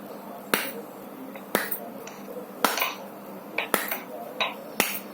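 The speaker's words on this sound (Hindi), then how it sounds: "आप ऐसे ऐसे पांचों उंगली खोल के ताली" Open-palm hand clapping with all five fingers spread, about seven sharp, crisp claps spaced roughly a second apart with a few softer taps between, close and clear with no talk.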